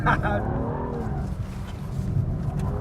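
A BMW M2 drifting on a track, its engine revving and rising in pitch near the start and then settling into a steady rumble, with people talking over it.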